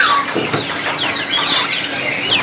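Jala kebo birds crowd a single cage at a bird shop, giving busy overlapping chirps and quick high calls mixed with rustling and wing flutters, loud and close throughout.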